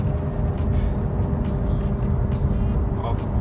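Straight-piped BMW E92 M3 on a sunset drive, a loud, steady, rumbling engine drone heard from inside the car, continuous throughout with faint intermittent noises over it.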